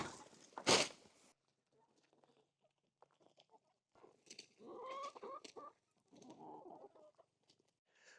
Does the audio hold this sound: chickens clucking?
yes